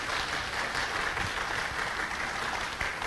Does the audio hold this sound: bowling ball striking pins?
no